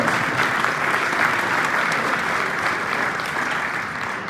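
An audience at a county commissioner's re-election campaign kickoff claps steadily in a dense, sustained round of applause, even in loudness, with no voices over it.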